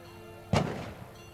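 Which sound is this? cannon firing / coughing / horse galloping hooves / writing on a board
cannon firing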